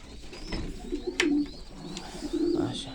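Young chicks call while being fed by hand, with soft cooing and brief chirps close by and low rustling underneath, in a cold setting of about -2 °C.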